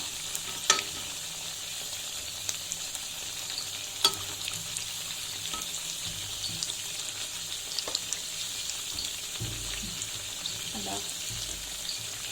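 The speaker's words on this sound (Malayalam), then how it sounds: "ഞാനിത് ഓരോന്നോരോന്നായിട്ട് ഇങ്ങനെ മറച്ചിട്ടുകൊണ്ടിരിക്കുകയാണ്" Raw jackfruit vadas fry in hot oil, with a steady, fairly quiet sizzle running throughout and occasional sharp clicks and scrapes as the pieces are turned one by one.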